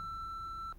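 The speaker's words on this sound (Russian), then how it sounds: "хотите оставить сообщение для Марка Дарси, говорите после сигнала." A single short, clear electronic beep from an answering machine in the Bridget Jones film sounds alone over a low background hum, then cuts off.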